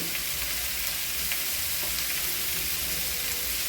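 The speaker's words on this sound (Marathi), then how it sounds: "तर हे पण आपण थोडं भाजून घेणार आहोत थोडा गरम मसाला आहे ते साईडला पण इथं भाजू थोडंसं तेल आहे" Garam masala spices with sesame and poppy seeds roasting in a little oil in a pan give a steady, close sizzle with faint scraping of a spoon, no voices.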